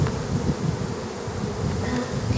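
Honeybees buzz densely and steadily inside an open hive box, a loud, close, continuous drone of many insects with no voices.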